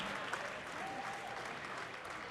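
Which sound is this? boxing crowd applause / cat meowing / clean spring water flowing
boxing crowd applause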